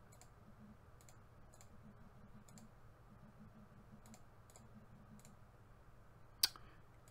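A very sensitive computer mouse clicks in quick, light pairs and singles at fairly regular intervals, with one sharper click near the end, over a faint low hum.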